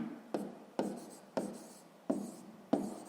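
Pen strokes on paper while writing out a sixth-grade math solution, five quick scratchy strokes at a steady rhythm, close and quiet with no talk.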